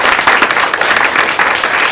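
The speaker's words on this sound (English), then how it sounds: "That raucous applause that you're hearing is the huge studio audience" Raucous applause from a large studio audience at a live talk show taping, a loud, dense wash of clapping and crowd noise filling the whole moment without a break.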